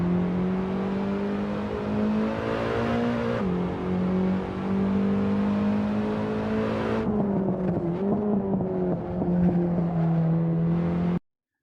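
A BMW race car laps Rockingham track with a loud, steady engine drone from close by, shifting pitch through gear changes and throttle lifts, with tyre and road noise underneath.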